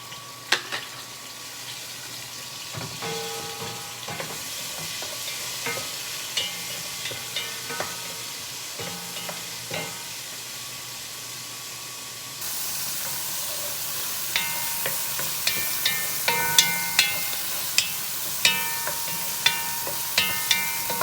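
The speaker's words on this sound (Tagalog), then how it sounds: "Isabay na natin yung sibuyas sa kamatis." Onion and tomato sizzle while frying in a pan, with a soft steady hiss, scattered utensil clicks and stirring taps, and the sizzle growing louder and brighter partway through.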